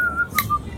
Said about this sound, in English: I'm gonna saunter on in, whistling.